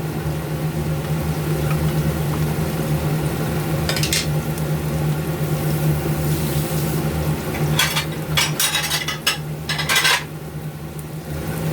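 Dried shrimp and squid are stir-fried in a pan with a steady sizzle under a low hum, while several sharp clattering scrapes of a utensil against the pan stand out near the middle and the end.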